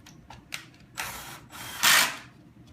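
A drill drives 1¼-inch screws into pocket holes on a wooden frame in a few short whirring bursts. The last burst is louder and longer, and quiet gaps fall between them.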